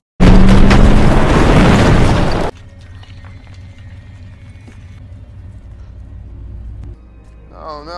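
A tunnel explodes in the horror film The Cabin in the Woods: a loud, broad roaring blast that lasts about two seconds and cuts off abruptly. A low rumbling aftermath follows, with faint tonal sounds near the end.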